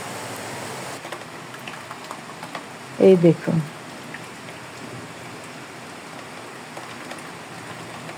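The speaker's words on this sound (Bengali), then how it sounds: "বৃষ্টিটা দেখা যাচ্ছে না কিন্তু বৃষ্টির রিমঝিম শব্দ শোনা যাচ্ছে" Heavy monsoon rain pours outside, a steady, even rushing hiss from start to finish, with a brief spoken phrase in the middle.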